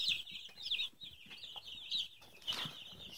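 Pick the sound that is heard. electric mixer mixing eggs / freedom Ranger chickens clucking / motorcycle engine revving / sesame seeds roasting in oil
freedom Ranger chickens clucking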